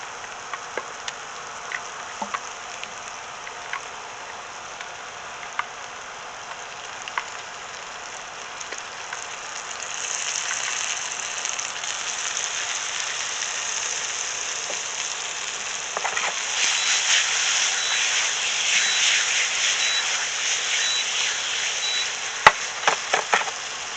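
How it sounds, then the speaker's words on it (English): Scallops sizzle steadily in a hot pan for a Bangladeshi shrimp and green bean dish, a dense crackling hiss that grows louder and busier partway through, with a few sharp pops and no talk. "Now we're going to add the scallops first."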